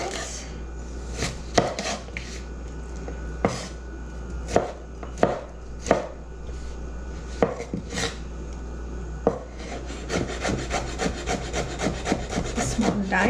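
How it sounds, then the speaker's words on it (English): Two small cucumbers are cut into small dice with a knife on a board, irregular crisp chops at first, then a rapid run of quick close taps toward the end, with no one talking. "like this we are going to cut it off, both the cucumbers"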